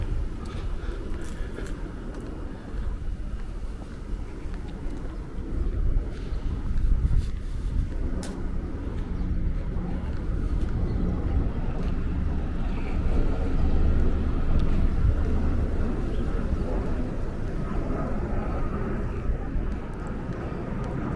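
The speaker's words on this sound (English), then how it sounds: "There is a nice breeze coming in at the camera" Low, steady rumble of wind buffeting a microphone outdoors on a Brooklyn street, continuous and fairly loud with gusty swells.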